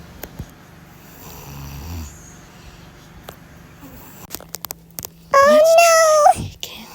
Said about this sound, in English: So my son kept snoring